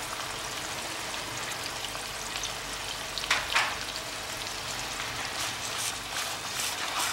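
Garlic-ginger paste and tomato puree fry in hot oil for a chicken curry, giving a steady, close hissing sizzle with a brief louder crackling flare midway.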